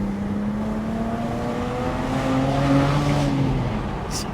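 A Stage 2 tuned BMW 335i engine drones under load from inside the car, its steady rising tones accompanied by a faint wastegate rattle and constant road noise.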